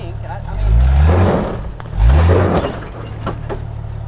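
A cheap used Jeep engine idles and revs in second gear while crawling off-road, with low rising and falling surges in two bursts close by, and people talking over it.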